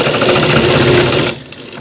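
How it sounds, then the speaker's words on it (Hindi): Sewing machine stitching a grip belt onto a pair of pants, a steady loud mechanical whir of rapid needle strokes that runs for most of the moment and then cuts off near the end, leaving a quiet room. "इस वाले ग्रिप बेल्ट को इस तरीके से सिलाई लगाना है।"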